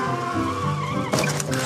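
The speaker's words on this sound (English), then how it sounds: "Crash! There's been an accident." A cartoon scooter skids with a rising squeal of tires, then hits something in a sudden sharp crash burst near the end.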